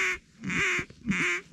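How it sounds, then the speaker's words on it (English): Wild ducks circle overhead during an Alberta duck and goose hunt, giving two loud, separate bursts of raspy quacking close by, with a short gap between them and no talk. "Ducks circling around behind me"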